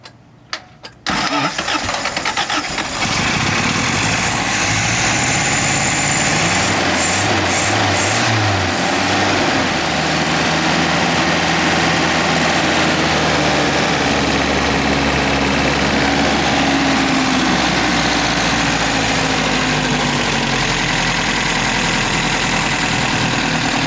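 A 1980 Toyota 4x4 pickup engine cranks and catches, then settles into a loud, steady idle with a deep rumble that carries on without a break.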